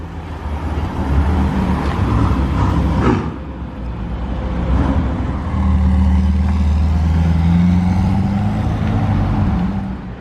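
A Ferrari 812 passes on a Monaco street, its engine rising and fading as it goes by, loud and close, with a second surge of engine noise later amid general street sound.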